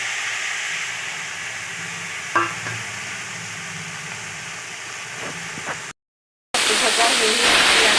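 Cumin seeds and onions frying in a pan for a mushroom curry, giving a steady close sizzle and hiss with a few faint pops, a brief silent gap, then louder, brighter sizzling.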